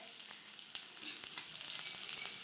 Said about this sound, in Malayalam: നമ്മുടെ കടുക് പൊട്ടി വന്നിട്ടുണ്ട് നമുക്കതിലേക്ക് ഒരു ശകലം ഇഞ്ചി ചെറുതായിട്ട് എണ്ണയതോടെ ചേർത്ത് കൊടുക്കാം